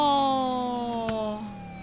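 A police car siren in the video game Car Crushers 2 wails with a steady, slowly falling tone, fairly loud and continuous, with a brief sharp click midway.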